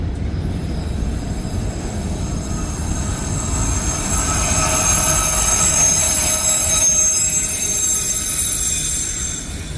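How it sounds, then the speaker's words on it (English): A mixed manifest freight train rolls past close by, its wheels squealing in steady high metallic tones over a continuous loud rumble and clatter that swells midway and holds to the end. "not an auto rack train, it's a mixed manifest."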